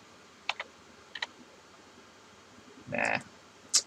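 A few scattered keystrokes on a computer keyboard, close and sharp, with a short burst of faster clacking near the end, then a final click.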